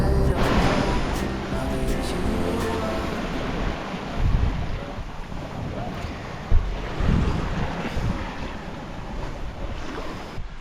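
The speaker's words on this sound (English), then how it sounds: "we've got about 11 knots of wind. We've got a slight swell on the beam, about a metre or so" Steady wind buffeting and sea wash on a sailboat's coastal passage in about 11 knots of breeze with a slight beam swell, a constant rushing roar with occasional thumps of water against the hull and no voices.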